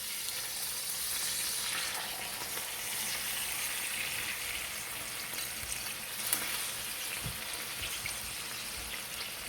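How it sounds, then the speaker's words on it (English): Pork chops sear in a pan of butter and olive oil, a steady close sizzle with crackling spatters running the whole time and no talk. "we're going to fry them up with about a little bit of butter and olive oil."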